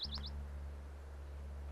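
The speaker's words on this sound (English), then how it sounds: "A pine warbler just sang." A pine warbler sings a brief, high trilled phrase near the start in a Florida Everglades pine forest, faint and short, followed by steady low background hum.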